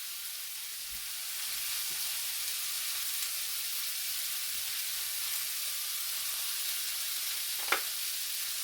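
Potatoes frying in a pan for a home breakfast, a steady bright sizzle throughout with a few faint taps and one brief sharper crackle near the end.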